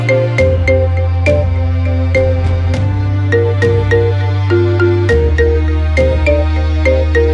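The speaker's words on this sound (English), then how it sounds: "Download now and enjoy this as your ringtone." A bright marimba ringtone melody plays in quick struck notes over a steady low bass line, loud and clear with no voices.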